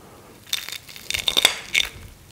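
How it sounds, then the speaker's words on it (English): Someone bites into a crunchy scotch egg coated in panko breadcrumbs, giving a few close, crisp crackling crunches in short bursts against a quiet background. "You can hear the breadcrumbs. The panko breadcrumbs, by the way."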